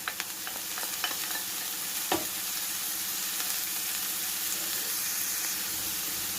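Onions and peppers fry in a pan for eggplant rolls, giving a continuous close sizzle. Occasional utensil clicks and stirring scrapes sound over the hiss, and no one talks.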